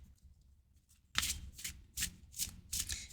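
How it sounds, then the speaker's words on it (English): Oracle cards from a dream ritual deck being cut and shuffled by hand, a quiet rustle first, then a series of four or five crisp riffling bursts in steady rhythm, close and fairly loud with no talking. "They're telling me to cut the deck"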